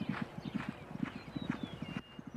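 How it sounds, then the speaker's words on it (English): A mare, the last offspring of Secretariat, walks with an even clip-clop of hooves, a close, regular beat of about two steps per second. "See how she walks with a sort of a wiggle? That's a real good sign in a horse."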